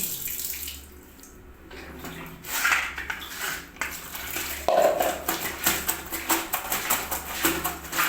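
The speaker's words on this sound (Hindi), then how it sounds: "सारे निचोड़ के मैं बाल्टी में रख रही हूँ" Wet clothes wrung out by hand and set into a bucket during home laundry: splashing, dripping and sloshing water with soft thuds and clatter, close and moderately loud.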